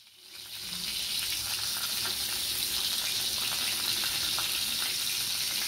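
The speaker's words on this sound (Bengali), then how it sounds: "কপিগুলো ভেজে নিতে হবে।" Cauliflower frying in oil left from frying climbing perch, a loud dense sizzle that swells in within the first second and then holds steady and close, with no talk.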